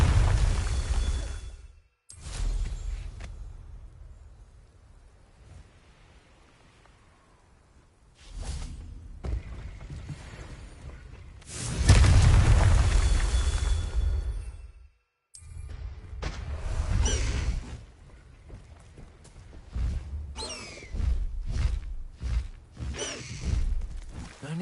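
Deep booming fire-spell explosions and whooshes from the video game Hogwarts Legacy burst out repeatedly. The blasts come in separate bursts with quieter gaps between them, one big rumbling boom standing out.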